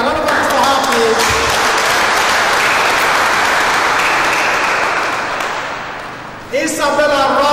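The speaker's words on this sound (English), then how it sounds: "a round of applause for her, please" Sustained audience applause for a named participant at a school event at Marble Model Academy, Abuja, steady and full for several seconds, fading slightly before a voice comes in at the end.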